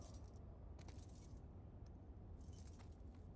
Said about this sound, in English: Wanna try those keys?